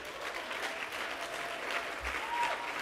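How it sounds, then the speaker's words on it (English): Round of applause from an audience at a literary event, a soft, steady spread of clapping heard from some distance at low level. "Let's give her a round of applause"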